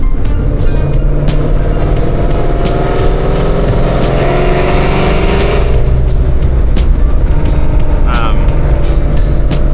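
A 900 hp Ford Boss 302 drives along in fifth gear, its engine droning loud and steady with rising and falling pulls through turns, road roar beneath it.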